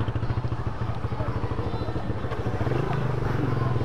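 Motorcycle engine running steadily during a group Sunday-morning ride in Sukabumi, a close, continuous throbbing drone with a pulsing low rhythm and rising revs near the end, with some faint chatter underneath.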